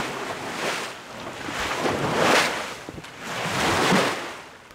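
A sailboat beating close-hauled through the open sea on the Danish coast near Ærø, waves surging and washing past the hull in slow swells with wind buffeting the microphone, loud and continuous with no voices.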